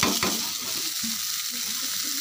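Sliced radish tumbling into a hot pan and frying, with a loud, steady sizzle and a few stirring scrapes at the start, close and continuous, no voices.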